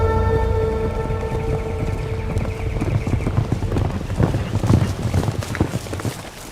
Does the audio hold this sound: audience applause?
no